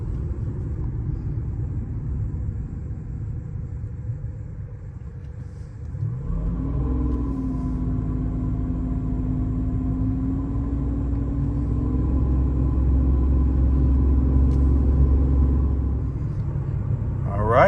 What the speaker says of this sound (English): When I'm giving it gas, I'm hearing some whining.